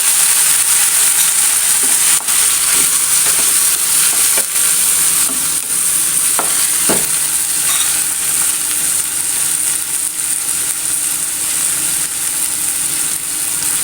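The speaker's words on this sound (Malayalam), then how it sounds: "ഇനി നമ്മൾ അതിലേക്ക് 3-4 തക്കാളി അരിഞ്ഞതിട്ട് കൊടുക്കാം." Chopped tomatoes, three or four of them, fry in a hot pan with a steady bright sizzle throughout, while a spoon stirs and scrapes in occasional sharp strokes; no one speaks.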